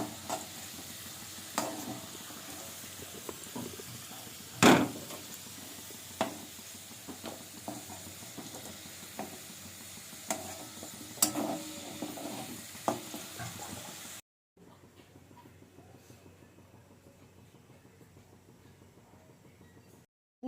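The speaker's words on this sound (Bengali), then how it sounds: "হালকা একটু ভাজা ভাজা হলে আলুটাকে আমি তুলে নেবো তো চলো আমি আলুগুলো তুলে নিই" Potato pieces fry in hot oil with a steady close sizzle, punctuated by scraping and clattering of a spoon as they are stirred and lifted out, followed by a quieter, calmer stretch.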